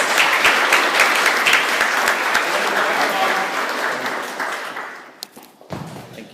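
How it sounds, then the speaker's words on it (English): Audience applause at a primary school end-of-year presentation day, a dense steady clapping that carries for several seconds and then thins out, ending with a few scattered claps and a thump. "Round of applause."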